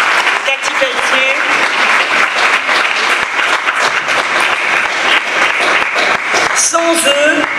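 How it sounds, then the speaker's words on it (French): Loud, dense applause from a large audience at a food fair launch at Porte de Versailles rolls on steadily throughout, with a few brighter tonal accents near the end over the clapping. "Vous pouvez les applaudir."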